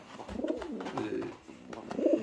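Show pigeons of the American Show Racer breed coo close by in soft, throaty, rolling bursts over a couple of seconds.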